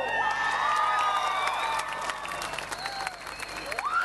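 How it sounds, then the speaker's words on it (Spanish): A concert audience applauds and cheers for a singer on stage, a dense wash of clapping with whistles and whoops rising above it, loud at first and then easing slightly. "¡Otro aplauso!"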